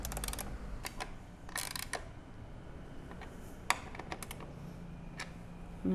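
Screws are tightened by hand on a DIY stand for a Yamaha P125 digital piano, giving scattered light clicks and small scraping ticks, close but faint, with a louder knock near the end and no talk.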